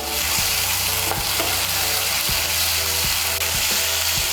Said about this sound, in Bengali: মিশিয়ে নিয়ে সামান্য একটু ভেজে নেব